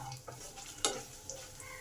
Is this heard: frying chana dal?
yes